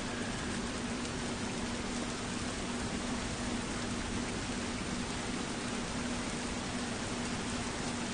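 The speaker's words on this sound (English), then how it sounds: "It's raining" Rain pours steadily in The Last of Us Remastered, a dense, even hiss of falling water that fills the whole stretch without pause.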